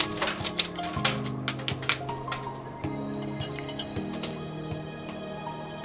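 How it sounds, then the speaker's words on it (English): A raw oyster's shell is cut at the side: a run of quiet, sharp clicks and scrapes of shell and metal, repeated irregularly at close range over a low steady hum, with no voices. "We're going to start by cutting the shell a little bit on the side."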